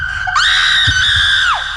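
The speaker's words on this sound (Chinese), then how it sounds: "尖叫声划破天际" A woman's high, sustained scream of horror in a frightening story, rising sharply, holding steady for over a second and then sliding down as it fades, loud and alone.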